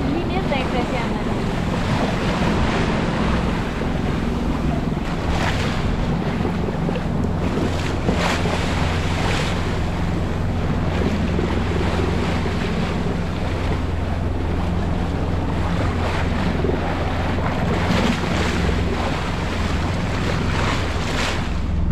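Choppy water slaps and splashes around a sailboat on the St. Lawrence River, steady wind buffeting the microphone while irregular wave hits and hull knocks continue throughout.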